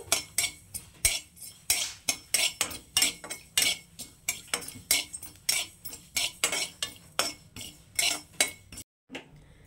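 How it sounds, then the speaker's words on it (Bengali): Nigella seeds dry-roasting in a dry pan, stirred with a utensil in a steady rhythm of about two scraping, rattling strokes per second, close and clear, ending in a short pause. "তো কালো জিরেগুলোকে আমি একটু শুকনো খোলায় ভেজে নেব, সুন্দর গন্ধ বেরোনো পর্যন্ত"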